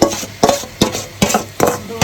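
Chicken biryani being stirred and sautéed in a pan, with five evenly spaced scraping strokes of a utensil against the metal over a soft sizzle, close and fairly loud.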